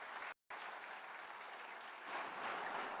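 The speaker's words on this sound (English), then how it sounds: "I would say a loud round of applause, but we definitely have that going" Loud sustained audience applause at an education conference in a hotel hall, dense clapping with a momentary dropout early on, swelling slightly toward the end.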